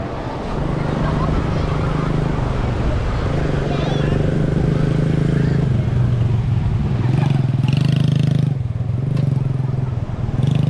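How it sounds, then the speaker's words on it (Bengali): A quad bike runs along the sand at Bapatla Beach. Its engine drones steadily and fairly close, rising slightly toward the end, with gusty wind buffeting the microphone. "এখানে কোয়াড বাইক যাচ্ছে এখান দিয়ে"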